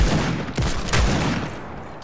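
A minigun firing in the video game Fortnite, a dense continuous burst of rapid gunfire that stays loud and near throughout, with a few heavier thumps.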